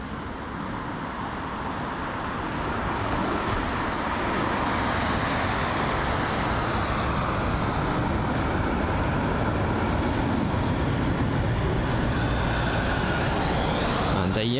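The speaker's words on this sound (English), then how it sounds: "So the Embraer E195 arriving from Zurich, and that's registered HBAZK" A Helvetic Embraer E195 airliner from Zurich arriving at London Heathrow, a steady broadband roar that builds slightly and holds loud and close throughout, with no talk.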